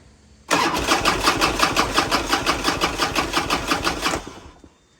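A 2002 Harley-Davidson FLHRSEI motorcycle, with new plugs and wires and freshly worked carb side, cranks and catches abruptly, then chugs in a loud rhythmic pulse for about four seconds before cutting off.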